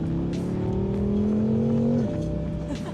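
A BMW accelerates at the BMW Performance Center in Thermal, its engine note climbing steadily and loudly from inside the car before a gear change drops the pitch near the end.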